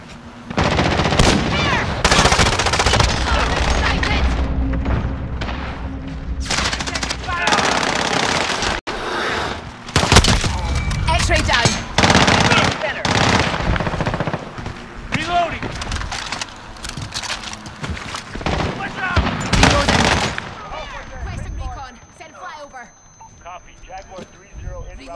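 Sustained automatic gunfire and bursts of shots from a shooter video game, loud and dense for most of the stretch, with players talking over the action throughout.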